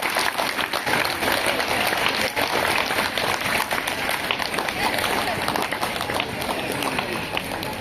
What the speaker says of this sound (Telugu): పెద్దగా మీ క్లాప్స్ తో ఎక్కడ యాక్టివ్ ఉండాలి